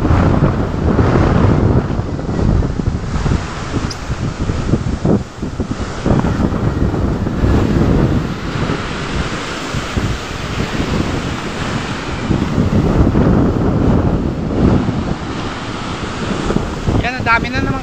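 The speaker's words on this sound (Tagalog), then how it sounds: "ang laki na naman ng alon." Big sea waves crashing during a storm, with strong wind buffeting the microphone throughout, a loud, continuous roar with surging bursts of surf and occasional faint voices under the noise.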